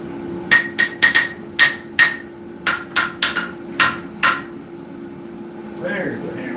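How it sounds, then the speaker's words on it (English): Power hammer forging bolt jaw tongs, about a dozen sharp metallic blows in irregular bursts over a steady machine hum, close and loud, ending with a brief scrape. "There's the hammer I'm looking for."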